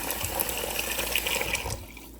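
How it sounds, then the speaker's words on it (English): Hot water gushes steadily from a tap, a full, hissing splash for about two seconds before it is shut off and the sound abruptly drops away. "I'm going to run hot water"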